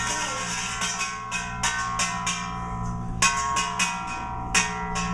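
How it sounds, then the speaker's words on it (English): Bells ring repeatedly in an irregular peal, bright metallic strikes with lingering overtones, steady and moderately loud without any voices, sounding an evacuation warning in a radio drama. "bells you hear are ringing to warn the people to evacuate the city"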